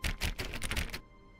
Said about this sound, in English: That is actually the keyboard sound?